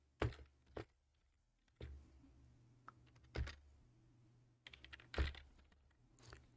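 Typing on a computer keyboard while entering a list of items into a spreadsheet, heard as sparse, separate keystrokes and thunks in small clusters with pauses between, close and fairly quiet, with no talking.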